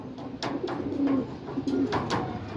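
Racing pigeon arriving at the loft after a training flight, giving soft repeated coos close by over faint background noise.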